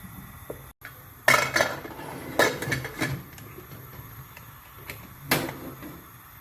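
Metal clanks and knocks as a pressure cooker lid is fitted and shut over tomato kurma, a few sharp clatters spread over several seconds.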